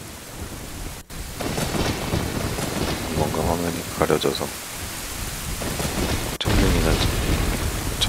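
Heavy rain pours steadily with rumbling thunder in The Legend of Zelda: Ocarina of Time, a dense wash of noise with a loud burst near the end, while a person talks over it.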